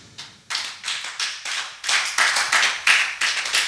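A church congregation at a worship service breaking into applause, a dense run of close, rhythmic hand claps building over a few seconds with no talking.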